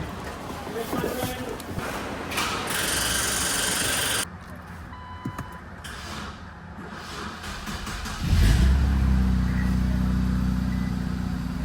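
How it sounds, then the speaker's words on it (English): A 2021 Infiniti Q50 hooked to a jump pack cranks and catches, its engine settling into a loud steady idle after earlier clicks and shuffling, with someone talking over parts of it. "Alright, car turned on."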